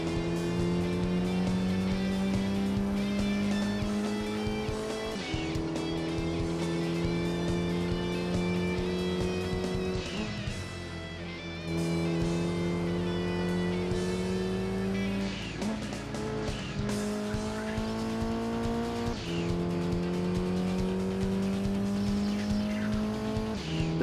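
Race car engines in a Gran Turismo 2 one-make race for Toyota/Mitsubishi cars, droning loudly and steadily, with rising pitch sweeps as gears change and occasional tire squeals, uninterrupted for the whole stretch.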